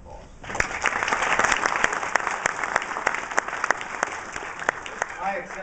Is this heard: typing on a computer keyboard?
no